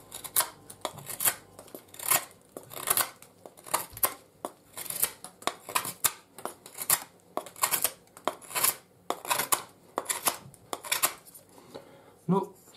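Repeated dry scraping strokes of a Kizlyar Supreme Vega knife with a 440C steel blade whittling shavings from a wooden pencil, close and fairly loud in an irregular rhythm of about a dozen cuts, with no talking.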